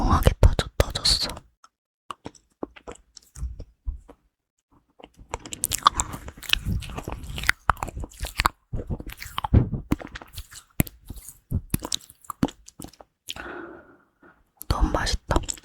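Crunchy malatang being eaten up close, with crisp bites and chewing coming in irregular bursts between pauses, and soft whispered speech at moments.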